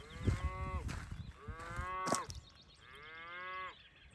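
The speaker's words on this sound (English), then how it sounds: "cows are happy." Cows lowing in a mountain pasture along the Camino Frances trail, three long drawn-out moos in succession, fairly close and clear with no one talking.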